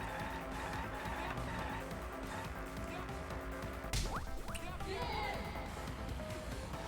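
A car driving and crashing in the Danganronpa V3 video game: steady engine and game noise, then a sudden crash-like burst with sliding, skidding tones afterward, loud and continuous throughout.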